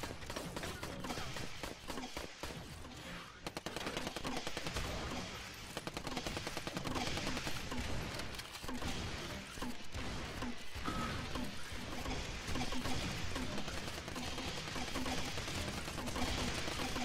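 Defensive turrets in a zombie survival video game fire in continuous rapid bursts, a dense, loud barrage of gunfire with crashes that runs throughout, with no talk over it.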